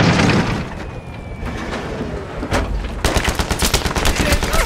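Battlefield 3 video game gunfire, loud rapid shots and automatic bursts over a noisy battle backdrop, growing into a dense continuous volley toward the end.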